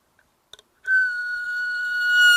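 Haegeum, the Korean two-string bowed fiddle, holding a single high, bright sustained note after a couple of faint taps, clear and alone.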